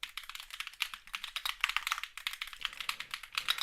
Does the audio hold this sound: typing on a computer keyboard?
yes